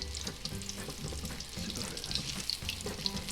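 Mozzarella bites frying in hot oil: a quiet, steady sizzle and crackle with small pops and faint stirring or clinking, no talk.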